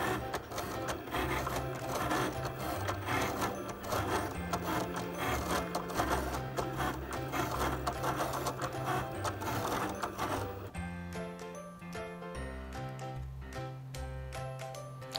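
A Cricut Explore machine cutting cardstock gives a steady whirring, buzzing mechanical drone with rhythmic carriage movements, continuous and fairly close, with the texture changing near the end as the cutting finishes.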